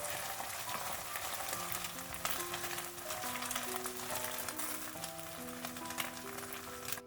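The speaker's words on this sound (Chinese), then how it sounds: "油热之后将鸡蛋液倒进来，鸡蛋液底部煎至定型之后，用铲子给它铲成小块" Beaten eggs fry in hot cooking oil in a wok, the sizzle steady and close as a spatula breaks the set egg into small pieces, with soft music playing underneath.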